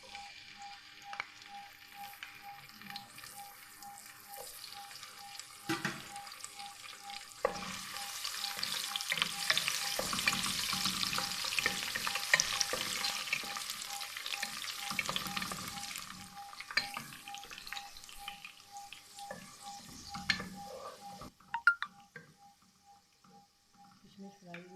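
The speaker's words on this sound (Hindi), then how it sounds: "सबसे पहले हम किशमिश को फ्राई कर लेंगे।" Raisins fry in a pan for sheer khorma, giving a soft, steady sizzle that swells in the middle with stirring scrapes and occasional clinks, fading toward the end.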